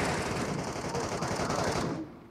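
Gunfire in the mobile battle royale game Metro Royale, a dense stream of rapid automatic shots that rattles on steadily, then cuts off near the end.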